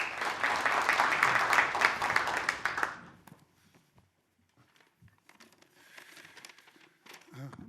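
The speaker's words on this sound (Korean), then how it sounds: "다시 한번 박수 부탁드립니다." Audience applause at a legislative public hearing on reforming real estate sales agency rules to prevent jeonse fraud; dense, fairly loud clapping for about three seconds, then it cuts off to near silence with faint room sounds and soft voices.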